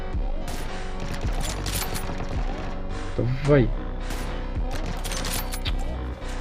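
Rapid bursts of gunfire in the mobile game New State crackle over a continuous game soundtrack, with someone speaking briefly amid the shots.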